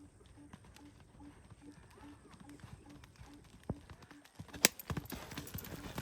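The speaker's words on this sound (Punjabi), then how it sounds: "ਇਹਦੇ ਨਾਲ ਤਾਂ ਸੋਹਣੀ ਘੋੜੀ ਭਜਦੀ ਏ।" A mare runs with a rider aboard, hooves clip-clopping in a quick, faint, regular rhythm at a distance, with people talking over it throughout.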